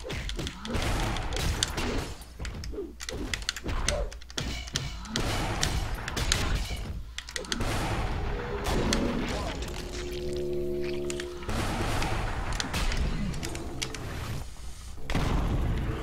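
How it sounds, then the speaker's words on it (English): Repeated explosions in the action video game Aztez, heavy booms and thuds landing in quick succession over a dense, loud game mix, with a voice talking over the action. "Ooh, that fucking ground and air combo, man. Double explosion, so scary."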